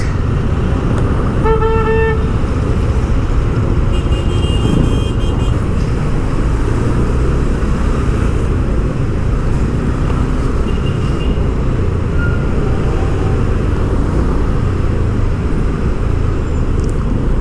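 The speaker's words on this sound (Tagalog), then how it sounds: "Traffic." Road traffic near the Quirino Avenue construction site at the Quirino Interchange: a loud, steady rumble of passing vehicles, with a short car-horn toot near the start and fainter horns later, and no talking.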